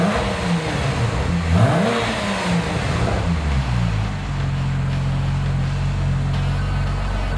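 A 2003 Porsche 911 Turbo engine starting up close by, with a couple of quick revs that rise and fall before it settles into a steady, rumbling idle.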